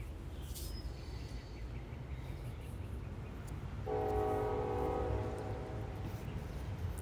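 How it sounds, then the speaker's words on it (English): A train passes outside, its horn sounding in a sustained blast from a distance midway through, over a low steady rumble, with a brief bird chirp early on. "And there's my train again,"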